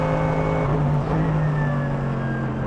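Mercedes-AMG GT3 race car on the Nordschleife, its engine holding a loud, steady droning note heard close from onboard, with a brief shift in pitch as it changes gear.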